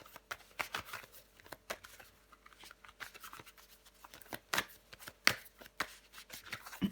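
Tarot cards are handled and shuffled in a steady run of soft, papery riffles and sharp taps, close and moderately loud, with no talking.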